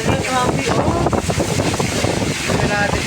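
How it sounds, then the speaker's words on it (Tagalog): Strong wind gusting during a heavy rainstorm in Dubai, a loud, steady broadband roar that fills the whole clip, with buffeting against the microphone. "Tingnan mo yung hangin. Grabe o."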